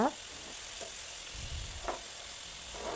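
Sliced bitter gourd fries in hot oil in a pan over a medium flame, giving a steady soft sizzle with a few brief clinks of a utensil scattered through.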